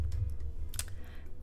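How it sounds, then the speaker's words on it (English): Quick keystrokes on a computer keyboard as a git log command is typed, a soft run of clicks with a brief busier burst midway, faint and close with no talking. "So you can do that by typing git log."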